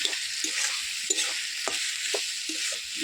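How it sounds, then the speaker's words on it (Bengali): Chicken leg meat fries in a pan with a constant bright sizzle, punctuated by repeated scraping and tapping strokes as it is stirred. "মাংসটা দিয়ে দিলাম"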